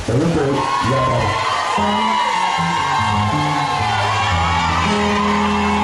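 Wedding guests cheer, whoop and shout together after a couple is pronounced husband and wife, loud and continuous crowd noise with music-like tones throughout, mixed with talking.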